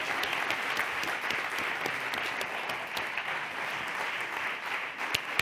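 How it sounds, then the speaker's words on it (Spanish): A crowd at the closing ceremony of an international culinary entrepreneurs' forum applauds the winner of the best startup award, with dense, sustained clapping at an even level throughout and no voices rising above it. "Un aplauso grande a Osigris"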